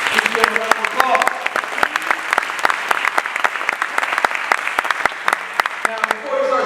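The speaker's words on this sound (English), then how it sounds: "Please give him a round of applause." Audience applause, a dense steady clapping from a crowd that holds at an even level throughout, fairly close and loud.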